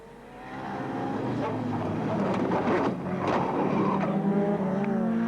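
A rally car on a tarmac stage of a 2002 championship, running on three wheels, roars past with a sustained engine note and tire noise, loud and close throughout.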